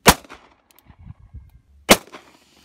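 Two sharp, close, loud reports come from a semi-automatic gun, spaced almost two seconds apart. Faint metallic clinks and rustling fill the gap between them.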